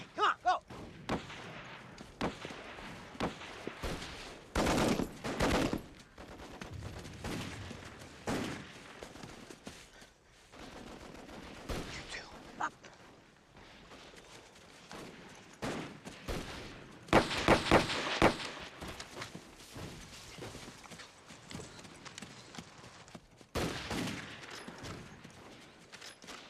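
Battle gunfire from a war thriller rattles in scattered bursts, sharp close reports and heavy booms spaced irregularly across the scene, some loud volleys standing out against quieter rumbling stretches.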